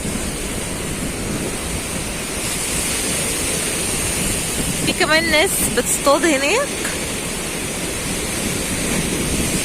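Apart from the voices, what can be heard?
high sea waves crashing at the Alexandria shore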